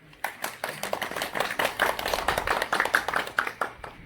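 Applause from a crowd at a Korean Buddhist youth association's first-anniversary dharma ceremony held at Simujang, a steady dense burst of clapping lasting several seconds at close range.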